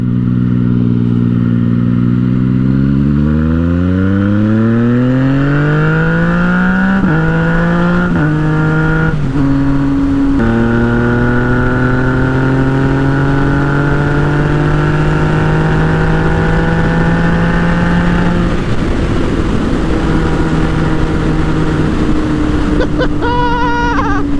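A Yamaha FZ-09 motorcycle engine under hard riding, loud and continuous, revving up through the gears with sharp shift breaks and rising, falling whine, close and dominant throughout.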